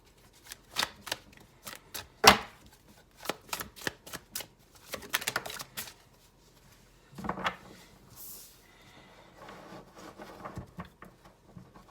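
Large tarot cards are shuffled by hand in a run of rapid riffling bursts and soft slaps, close and crisp, broken by short pauses.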